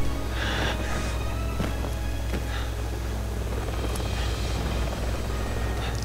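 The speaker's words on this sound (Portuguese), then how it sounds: "Aquele helicóptero errou todos os tiros neles" A helicopter in the video game Resident Evil 6 gives a steady, loud rotor and engine drone that holds throughout, with a few faint clicks and thumps over it and no talk.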